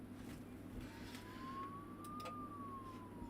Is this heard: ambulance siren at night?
yes